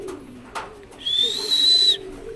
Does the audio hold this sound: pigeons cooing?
yes